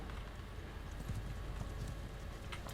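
Horses moving with a band of horse archers in the Mount & Blade 2 Bannerlord game, with a steady, close clip-clop of hooves over a constant battlefield rumble.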